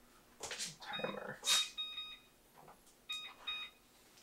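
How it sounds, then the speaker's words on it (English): Kitchen oven timer beeping while holiday cookies bake, giving short bursts of repeated electronic beeps in several separate groups, heard close amid household noise. "Timer."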